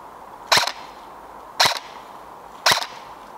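Three sharp snapping shots from a Double Bell MK12 MOD1 SPR airsoft rifle, evenly spaced about a second apart, loud and close, each a crisp crack with a short tail, no talking.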